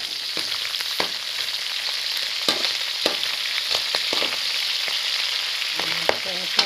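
Bagoong alamang, Filipino fermented shrimp paste, fries in oil with a continuous bright sizzle and scattered popping clicks from stirring, close and even throughout.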